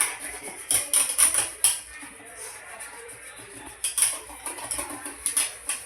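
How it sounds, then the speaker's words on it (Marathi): Dhokla batter thinned with water is stirred in a bowl with a spoon, giving quick bursts of light metallic clinks and scraping in an uneven rhythm, close and fairly quiet. "थोडं पाणी टाकून मी परत एकदा घोळून घेते."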